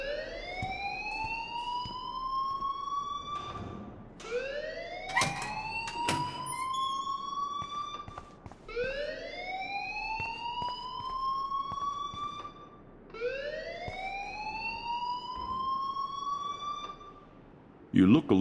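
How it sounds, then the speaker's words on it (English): An electronic alarm in the video game Life is Strange wails in four rising sweeps, each climbing in pitch then dropping, with brief clatters between them and a voice near the end. "please turn off that alarm since that's your job"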